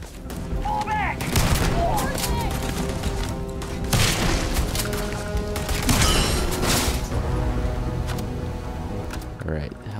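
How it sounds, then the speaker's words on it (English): Dense, loud gunfire in the space shooter Starfield, rapid overlapping shots and bursts with booming impacts running throughout, while people speak now and then over the battle. "Slayton security shooting at us."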